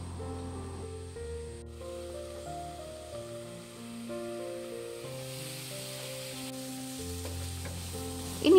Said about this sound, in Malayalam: ഇനി നന്നായി ഒന്ന് ഇളക്കി ഒന്ന് അടച്ച് വെച്ച് വേവിച്ച പെട്ടെന്ന് തന്നെ ഉള്ളി നമുക്ക് വെന്ത് കിട്ടും.